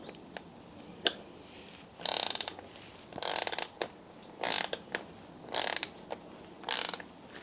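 Bursts of ratcheting clicks from a 13mm spanner tightening the seat clamp on a Brompton B75 folding bicycle saddle rail, five short rapid runs separated by pauses, close and clear.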